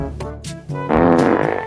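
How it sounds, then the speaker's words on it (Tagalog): A loud, buzzy fart in a classroom breaks out after a few softer sounds, close and sustained for nearly a second. "May umutot."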